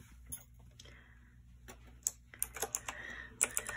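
Keys clatter on a mechanical keyboard in a quiet room, first sparse taps, then quicker irregular bursts of sharp clicks close to the microphone.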